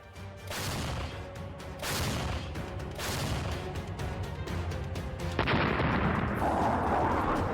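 Artillery bombardment in a war zone in Ukraine, a loud, continuous barrage of booming blasts and crackling bursts that overlap with no pauses, building toward the end.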